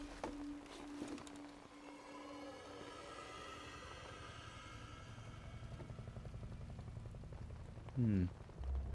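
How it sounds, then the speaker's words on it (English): Steady rain in the stealth video game Metal Gear Solid Delta: Snake Eater, a constant wash of falling water under a low rumble, with faint voices and a brief louder knock near the end. "It's raining"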